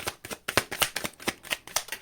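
Tarot deck being shuffled by hand, a quick run of crisp riffling card flicks repeating about every quarter second, close and fairly quiet with no talking.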